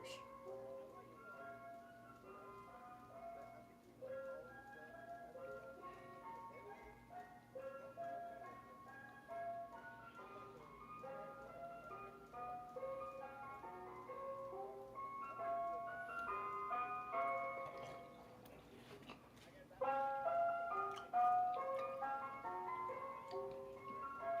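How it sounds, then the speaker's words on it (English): Ice cream truck jingle playing a repeating melody of bright, bell-like notes, steady and continuous throughout, with a low steady hum beneath, heard amid Call of Duty game play. "You got an ice cream truck here? I haven't heard of an ice cream truck in years."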